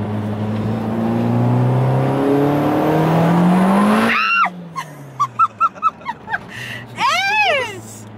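Tuned Audi S3 GTX30 accelerating hard through the gears, engine roaring loudly as revs climb in a long pull before a sudden cut, followed by short excited voices and shouts from inside the car.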